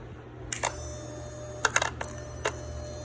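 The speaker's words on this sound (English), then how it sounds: "It energizes the relays, ASD relay, and then clicks off" The ASD relay on a swapped G3 5.7 Hemi wiring harness and PCM clicks as it energizes and drops out: a handful of sharp, close mechanical ticks spread over a few seconds above a low steady hum.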